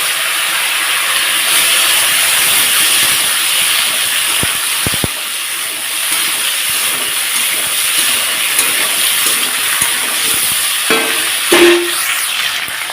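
Potatoes and pointed gourd frying with spices and whole bay leaves in a pan: a steady, close hissing sizzle throughout, with brief utensil knocks near the end.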